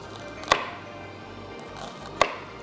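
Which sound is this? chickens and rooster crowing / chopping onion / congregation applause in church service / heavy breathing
chopping onion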